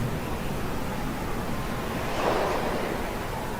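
Ocean waves and wind at the shore, a dense continuous roar of surf mixed with wind buffeting the microphone, loud and close, with one wave swelling slightly louder midway and no talk.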